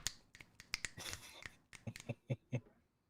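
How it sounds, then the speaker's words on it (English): Fingers snap repeatedly and close up during a casual sports podcast recording. The snaps start scattered and turn into a quicker, regular run of sharp cracks toward the end. "Don't snap your fingers like that already."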